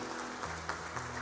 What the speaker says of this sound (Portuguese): Vale uma linda salva de palmas?